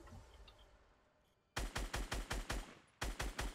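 Rapid bursts of automatic gunfire from the Fortnite video game: a quiet lull, then a sharp string of about eight evenly spaced shots, a brief pause, and three more loud, close shots.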